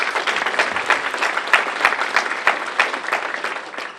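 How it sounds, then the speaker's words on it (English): Loud, sustained audience applause for Minister Deontay Lavender at a 2019 State of Ward 7 gathering: a full, continuous wash of many clapping hands at steady intensity throughout, with no talk over it. "Again, another round of applause for Minister Deontay Lavender."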